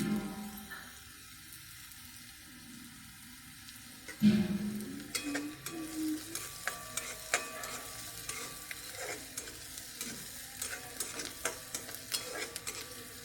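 Onion frying in a pan for fried bombil fish: a quiet opening, then a steady low sizzle broken by sharp, repeated stirring scrapes against the pan, with no voices.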